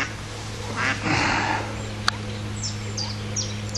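Mallard ducks with a female and her ducklings calling outdoors, a few soft quacks and thin peeps scattered over steady low background hum, moderately distant, with a brief sharp click midway.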